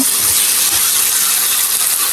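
Pumpkin bhaji fries loudly in a pan while being stirred, a dense, steady close sizzle and hiss throughout with no speech.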